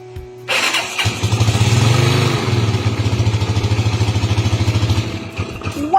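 A motorcycle engine with a newly installed oil pump and the valve cover off cranks and starts, then settles into a loud, steady, rapid idle thrum close by, no talking over it.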